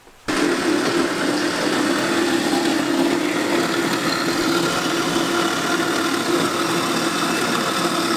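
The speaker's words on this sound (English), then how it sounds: "That vertical bandsaw though." A vertical bandsaw in a workshop switches on abruptly and keeps up a loud, steady, even whir and drone, with no talking over it.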